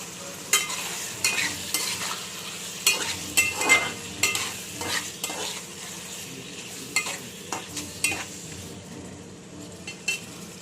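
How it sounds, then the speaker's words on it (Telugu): A spoon stirs prawn pieces in a pan over a low sizzle, each turn giving scraping, clattering knocks against the metal at an irregular pace, with the frying hiss running underneath. "మొత్తం ముక్కలు కలిసేటట్టు తిప్పండి."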